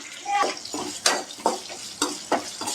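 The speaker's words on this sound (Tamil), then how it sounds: "இது எல்லாமே சேர்த்து நல்லா வதக்கிக்கலாம்" Ginger and curry leaves sizzle in a hot pan over a low flame while a utensil stirs and scrapes in a regular rhythm, about every half second.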